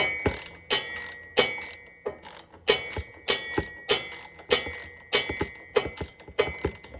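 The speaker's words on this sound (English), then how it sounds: "So I'm having to go back and forth from the ratchet to my hand." Ratchet wrench turning bolts on a Cub Cadet Ultima ZT1 zero-turn mower during throttle control repair, giving steady repeated clicking strokes in a regular back-and-forth rhythm, close and clear.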